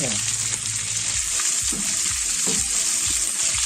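Butter sizzles and crackles steadily in a hot pan while prawns cook, with occasional stirring scrapes and pops close by and no talking.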